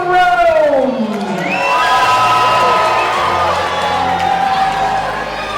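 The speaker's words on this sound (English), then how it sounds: "My lords, my ladies, raise a cheer for your Knights of the Realm!" Audience at a Medieval Times dinner tournament cheers for the knights: a loud, sustained crowd roar with whoops and children's shouts that swells and holds throughout.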